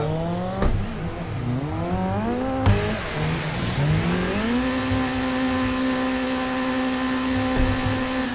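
A Nissan S13 drifts along a mountain pass on the Ebisu Touge course, its engine revving hard, dipping and climbing again, then holding a high steady pitch, loud and close throughout.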